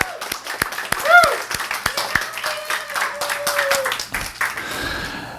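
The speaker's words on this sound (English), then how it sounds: "So let's give her another round of applause." Applause in a church service: scattered hand claps at a quick, uneven rhythm, fairly close, with a brief vocal whoop and other crowd noise rising and falling around them.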